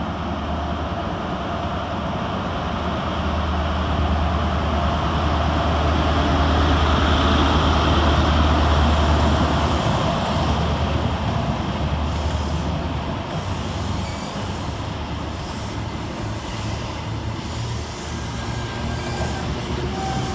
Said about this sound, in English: Next train out is 43093 and 43171, working the 1237 Great Western Railway Castle service from Penzance to Cardiff Central